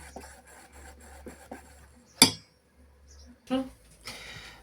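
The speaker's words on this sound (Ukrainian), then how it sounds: "І знову перемішуємо." A spoon or whisk scrapes and stirs cauliflower batter, thinned with a little milk or water, in a bowl, making soft rhythmic rasping strokes punctuated by a few sharper clinks against the bowl.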